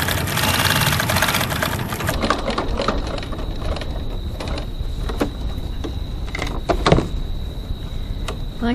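Sewing machine stitches along the bottom of a crossbody bag with a recessed zipper, running steadily at close range for the whole stretch, with a constant motor whine and a few sharper knocks; no talking.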